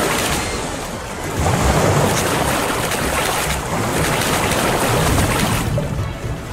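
Sea waves in the Mediterranean setting of the audio game Constant Battle, a steady broadband wash of surf with wind, swelling slightly louder after the first second and holding without speech.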